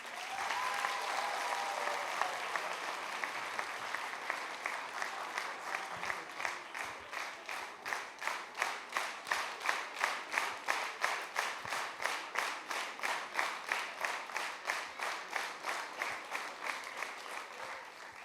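Audience applause at a student concert, a steady wash of many hands clapping that turns into rhythmic, unified clapping in time toward the end, heard from within the hall.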